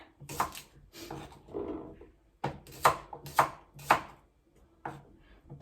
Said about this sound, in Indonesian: Nah, terus ada bawang merah, bawang putih, kita juga potong kasar.